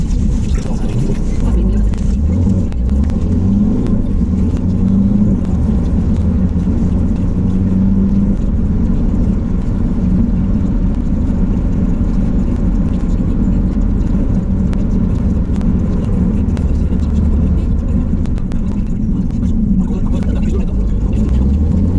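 Steady low rumble of a car driving on the road, heard from inside the cabin, continuous and loud throughout with no distinct events.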